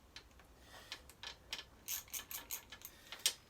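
A small socket wrench ratchets as it loosens the bolts on a mini quad's air filter, giving a series of quick, light clicking bursts in an irregular rhythm, close by and fairly quiet.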